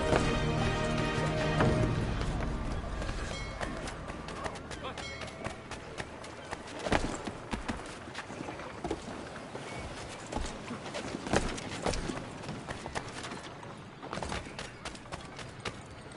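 Horse hooves clip-clopping in a fantasy role-playing video game, a rapid run of sharp hoof strikes mixed with game sound and music, with a voice speaking over it.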